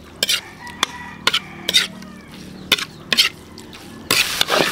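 Metal ladle scraping and stirring bagoong dinakdakan in a cooking pan, a run of sharp, close scrapes and clacks in an uneven rhythm over a faint background sizzle.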